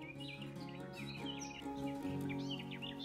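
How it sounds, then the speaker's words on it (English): Several birds chirp and sing in a busy outdoor chorus heard from a car, including a distant cuckoo, with overlapping calls throughout and a steady background hum beneath them. "Listen to those birds, I can even hear a cuckoo in the distance."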